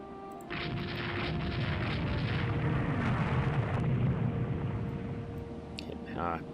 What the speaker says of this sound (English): Hit, 3 heavy guns firing.